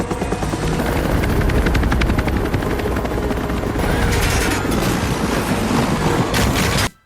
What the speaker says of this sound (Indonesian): helikopternya mengalami kerusakan yang membuat Ray berusaha mendaratkan helikopter tersebut